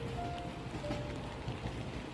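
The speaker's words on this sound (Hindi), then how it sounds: "बारिश की बूंदें शीशे से टकराती रही।" Rain patters against a window pane, a soft, even hiss of drops with faint scattered taps, heard quietly and continuously in the background with no voices.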